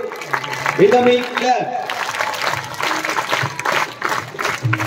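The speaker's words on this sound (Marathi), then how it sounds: "टाळ्यांचा आवाज" Audience clapping at a school prize-distribution ceremony, a moderate, uneven patter running under a speaker's voice and some background music from a loudspeaker.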